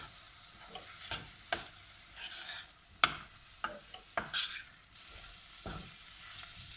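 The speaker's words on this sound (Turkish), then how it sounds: "Unla birlikte de 1-2 dakika kavurmaya devam ediyorum" Flour is stirred and sautéed in a pot for mushroom soup, with a faint background sizzle and irregular close scrapes and taps from the spoon against the pot.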